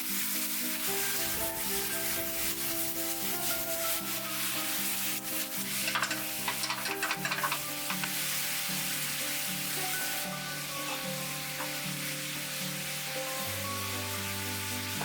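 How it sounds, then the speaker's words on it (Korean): Star anise, cloves and cinnamon sticks in a pan for a pork chop, flambéed with apple brandy, giving a steady close sizzle with stirring scrapes over soft background music. "이제 팔각, 정향, 시나몬 스틱을 넣어주고 사과 브랜디를 넣고 플람베 해줍니다."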